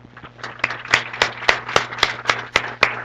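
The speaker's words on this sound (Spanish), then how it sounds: "Le damos un aplauso, por favor." A small audience at a university coffee science talk claps after an interview, with distinct, separate hand claps in a fairly steady rhythm, close and moderately loud over a low electrical hum.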